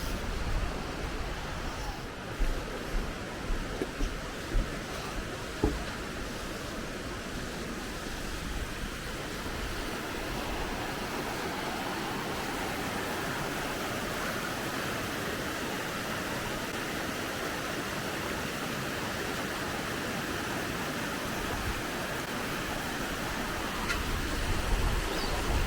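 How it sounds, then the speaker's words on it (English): Upper waterfall in Queensland, a continuous roaring rush of falling water close by with some wind buffeting, a few soft knocks early on and no voices. "So this is the upper waterfall."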